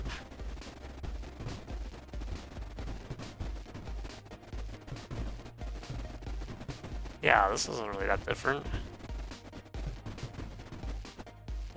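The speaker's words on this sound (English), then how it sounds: "It does have two cannons firing," Two cannons fire repeatedly in the strategy game Creeper World IXE as a string of soft thudding shots under steady background game sound, while someone talks over part of it.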